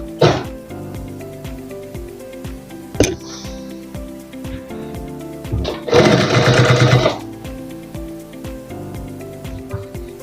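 Sewing machine stitching mesh into a shalwar, one burst of about a second running loud and close amid quiet handling clicks and taps.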